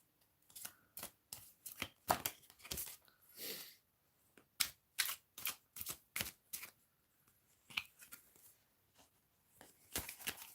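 Tarot cards are shuffled in repeated quick riffling bursts, crisp and close, with short pauses between each round.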